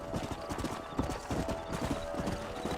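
Horse hooves clip-clop steadily and fairly close in the Red Dead Redemption video game, a brisk regular rhythm of hoofbeats running throughout over a faint background hum.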